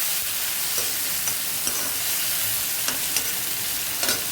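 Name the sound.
tomatoes being sautéed with browned onion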